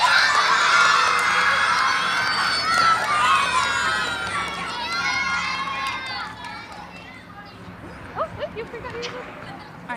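A crowd of elementary school children cheering and shouting for award recipients at a school awards event, loud high-pitched voices that gradually fade, followed by a few scattered claps.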